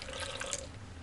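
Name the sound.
water poured from tap into pot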